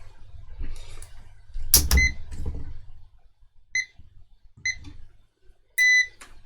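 A multimeter in continuity mode beeps while wiring is checked during an HF band mod install on a Quansheng UV-K5 radio. Handling clicks and thumps come first, then a few short, clear electronic beeps and a slightly longer one near the end.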